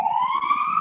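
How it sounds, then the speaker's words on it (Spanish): A siren goes off during an online market-research class, a steady electronic wail holding close and loud throughout with a faint hum beneath. "espero que no haya sido nada grave lo de la sirena"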